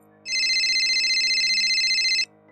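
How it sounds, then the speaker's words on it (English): A mobile phone held in the hand rings with one loud, steady electronic ringtone burst lasting about two seconds, close and clear against near silence. "then my phone rang in my hand, startling me"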